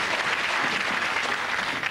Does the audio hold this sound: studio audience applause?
yes